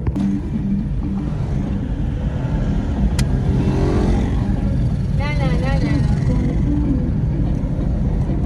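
A car drives along the road with a steady, loud rumble of engine and road noise from inside the vehicle, and voices are heard over it.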